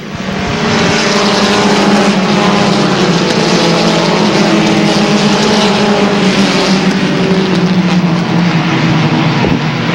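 Race cars thunder around the track as racing resumes under green, a loud, sustained roar of multiple engines with shifting pitch as the field passes close by, with no talking.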